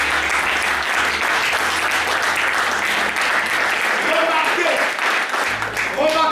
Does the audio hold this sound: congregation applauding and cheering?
yes